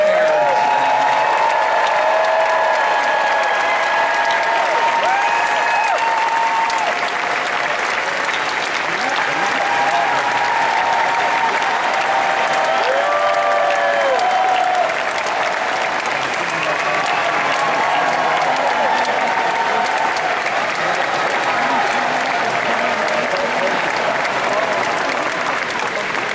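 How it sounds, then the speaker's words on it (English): Sustained audience applause and cheering at a Tron: Ares panel during San Diego Comic-Con 2025, with a large crowd clapping densely and steadily for the whole stretch, loud and continuous, with a few whoops over it. "give a big round of applause to the good folks from Tron Ares"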